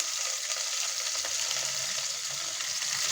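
Sambar seasoning frying in hot oil in a pan, a steady close sizzle with faint crackles running unbroken throughout, no talking.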